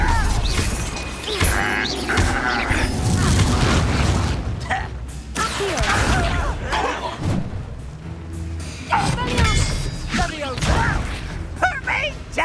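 The Confringo spell detonates in Hogwarts Legacy with repeated booming, crashing impacts and pops during a fight, and voices are heard among the blasts.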